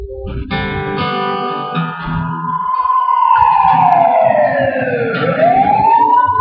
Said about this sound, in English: Jessica was rushed by ambulance to Midland Memorial Hospital